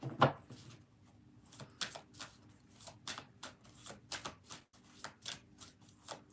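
A deck of cards being shuffled for a tarot-style reading, a sequence of close riffling snaps and soft taps in uneven bursts, with no talk.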